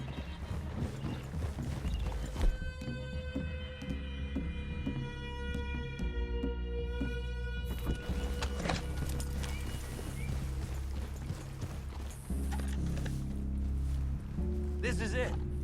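Horse hooves clip-clopping with an occasional whinny in Red Dead Redemption 2, a steady moderate patter under in-game music and voices.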